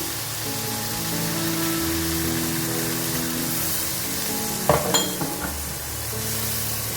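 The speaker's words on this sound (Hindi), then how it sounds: "इसको मसाला भून लेना है" Spices including paprika, roasted cumin, turmeric, red chillies and salt roasting in a pan for Lahori-style paya, a steady loud sizzle with a few sharp clinks of stirring near the end and no talking.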